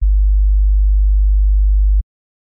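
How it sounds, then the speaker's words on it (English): A steady, pure 50 hertz sine tone hums low and loud for about two seconds, then cuts off abruptly into silence. "Just for reference, here's a sound at 50 hertz."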